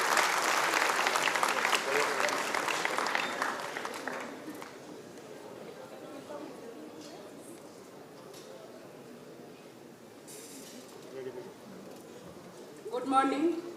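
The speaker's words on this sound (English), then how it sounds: "Let's welcome her with a round of applause." A literary festival audience breaks into loud applause for about four seconds, then the clapping thins out into scattered faint claps and room murmur, with a brief burst of noise near the end.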